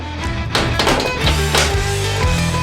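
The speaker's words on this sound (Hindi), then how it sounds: "दरवाजा बंद कर लेंगे।" The heavy door of a large baking oven loaded with dough-filled moulds swings shut with a short tap and a dull thunk, close and fairly loud.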